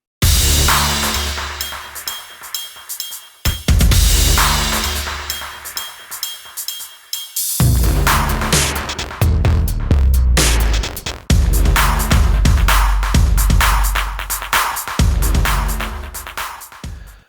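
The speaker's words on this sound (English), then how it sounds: "let's cut a few out of Baltic birch plywood and see how they do" A Thunder Laser Bolt Pro 32 laser cutter works through Baltic birch plywood, producing loud continuous mechanical whirring and buzzing in several sections separated by short pauses, with clicks and rattles as the head moves.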